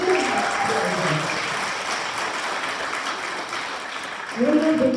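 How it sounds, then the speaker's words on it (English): Audience applause fills a gymnastics team meet, a steady wash of clapping lasting several seconds, with a voice talking over the start and again near the end. "So a big round of applause for Ella and everything she has."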